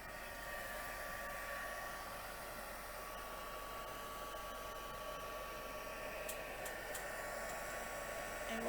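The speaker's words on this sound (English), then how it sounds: "I'll bring in my heat gun, turn it on for a few seconds on setting 2." A heat gun runs on its low setting, a steady, even airy whoosh with a faint motor whine, constant from start to finish and fairly quiet.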